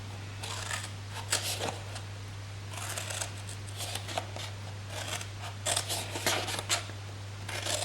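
Scissors snip through card flaps on a handmade bottle gift box, a run of short crisp cuts coming in uneven bursts, close and fairly quiet over a steady low mains hum.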